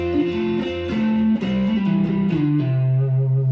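An electric guitar plays double stops through heavy effects and a loop pedal, sustained and sliding between chord shapes, loud and close with no talking, in a cover of a song.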